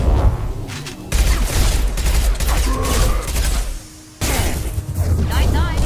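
Shotgun blasts and gunfire in the sci-fi shooter Mass Effect 2 on PC, loud bursts and booms amid a dense battle mix, with voices talking over the action.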